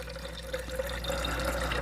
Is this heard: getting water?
yes